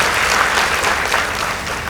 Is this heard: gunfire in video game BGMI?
no